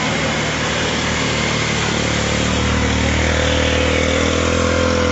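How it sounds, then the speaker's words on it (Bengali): A motorcycle engine hums loud and steady as the bike rides through floodwater over the Kulaura–Moulvibazar road, with a continuous rushing wash underneath and no talking. "এই যে বাইক যাচ্ছে, এই যে দেখতে পাচ্ছেন বাইকের চাকার প্রায় অর্ধেক পানির নিচে চলে যাচ্ছে"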